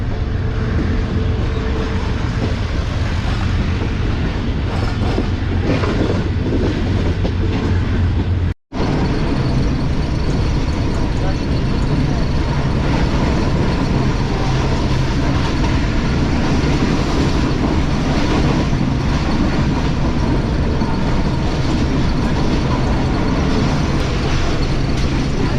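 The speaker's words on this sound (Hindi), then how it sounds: "स्पीड ट्रेन की कुछ इस तरह की है।" A Subak Raftar railcar runs on the main line toward Lahore, heard from on board as a steady loud rumble and rattle of the carriage throughout, with one very brief dropout partway through.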